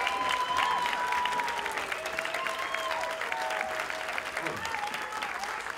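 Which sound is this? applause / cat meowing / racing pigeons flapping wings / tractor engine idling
applause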